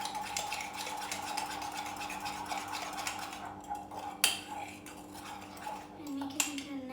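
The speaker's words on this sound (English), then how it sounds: "Let's stir it nicely." A spoon stirs mug cookie batter made with flaxseed gel, producing steady close scraping and clinking against the mug, with a low hum underneath and a few sharper taps.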